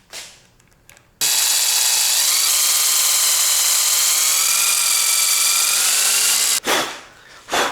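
Power tool drilling into aluminium for a motorcycle clutch lever, MT-07 build: one loud, steady high-pitched whine lasting several seconds close up, with its pitch shifting slightly before it cuts off.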